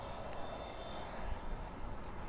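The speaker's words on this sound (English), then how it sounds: "we really start to hear the 747 engines as it starts to taxi towards us" Boeing 747 jet engines taxiing at night at Dallas/Fort Worth International Airport, a steady broadband roar and whine at moderate distance, continuous and without voices.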